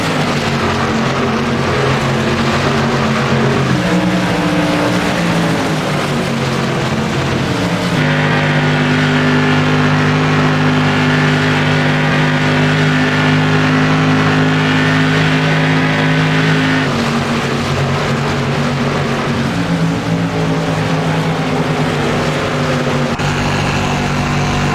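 An SK Modified race car engine at Phoenix International Raceway in iRacing drones loudly and steadily at high revs, its pitch rising and falling through the corners as the car runs lap after lap, with no talk.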